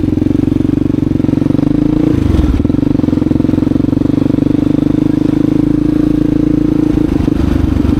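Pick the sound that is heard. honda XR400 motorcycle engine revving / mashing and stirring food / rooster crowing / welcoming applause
honda XR400 motorcycle engine revving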